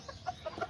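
Azteca and serama chickens cluck softly in a few short, separate notes close by. The sounds are faint and quiet, and no one speaks over them.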